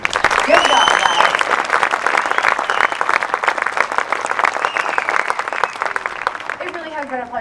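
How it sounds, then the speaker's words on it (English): Choir students receive a round of applause, dense steady clapping from a group that holds strong for several seconds before gradually thinning and fading toward the end. "let's give, again, the students a round of applause for enduring all of this"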